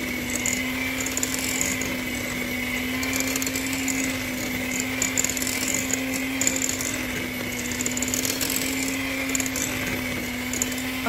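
An electric mixer on its lowest speed blends waffle batter with melted margarine. It gives a steady, moderately loud motor hum that holds unchanged throughout, with faint beater rattle on top.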